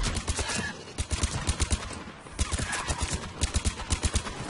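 Rapid gunfire from a rifle with strong upward kick in Mass Effect 3 multiplayer, repeated close sharp bursts in quick rhythmic volleys with a short pause in the middle, no talk.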